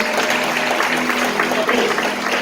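Congregation clapping during a church service, a dense steady burst of applause filling the room with a faint voice underneath.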